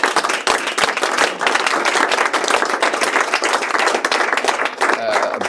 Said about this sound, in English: So let's give a round of applause to all the nurses.